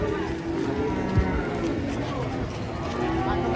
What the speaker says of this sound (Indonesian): Sapi super galak.